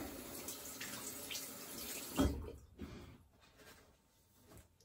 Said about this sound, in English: Just gonna do a quick rinse.